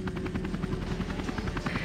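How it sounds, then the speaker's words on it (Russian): A helicopter in the video game Tomb Raider gives a continuous thumping rotor drone with a fast, even pulse and a steady engine hum, alone without speech. "Вертолет Нисимуры ждет тебя снаружи."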